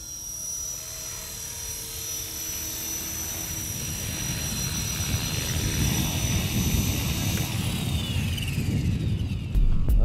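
An EXI 450 Pro RC helicopter in forward flight gives a steady high-pitched whine of rotor and motor, growing gradually louder and more turbulent as it passes nearer, with no talking.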